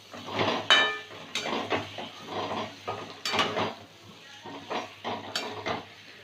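A spoon scrapes and clanks against a pot while potato curry with peas is stirred, a sequence of close metallic knocks and scrapes over a faint background hum.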